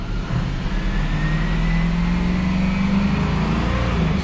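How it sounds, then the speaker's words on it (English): Ford 6.0L Powerstroke diesel truck engine with a turbo underboost fault, running steadily nearby with a loud, even, low rumble and a faint whine rising slightly over time. "Truck is running."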